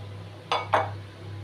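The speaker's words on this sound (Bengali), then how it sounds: "খুন্তি দিয়ে একটু নেড়ে চেড়ে নিলাম যাতে ভালো করে" A spatula stirs dhoka, lentil cakes, through curry in a pot. Two quick metallic clinks and scrapes sound close together over a low steady kitchen hum.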